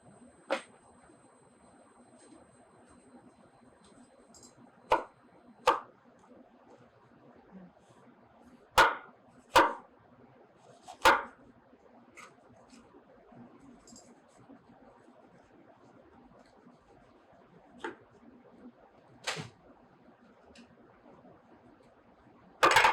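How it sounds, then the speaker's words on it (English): Sparse, sharp knife chops through bell pepper on a cutting board, irregularly spaced with quiet gaps between, close and fairly crisp. "so we're chopping our bell pepper here."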